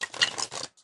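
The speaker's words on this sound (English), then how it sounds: "New decks always need a good shuffle." A new deck of tarot cards being shuffled, a quick riffle of crisp card patter lasting under a second, close and fairly loud, alone with no talk.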